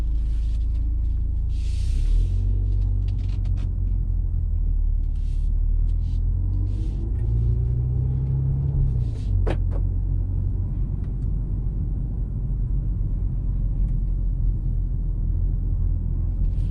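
A 2022 BMW X2 M35 drives with its engine and sport exhaust in sport mode, the exhaust valves open. A steady, loud low rumble continues throughout, with a rising rev swell near the middle and no talking.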